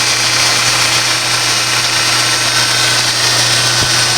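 A Monarch 10EE metal lathe spins at about 1800 RPM on a new SCR drive, giving a steady, loud machine drone with a constant low hum and broadband whir that holds evenly throughout, with no voices.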